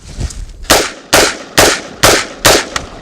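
An AR-15 rifle, just pulled from a mud test, fires five sharp, loud shots in quick succession at an even rhythm, each crack close and dominant with a short decay.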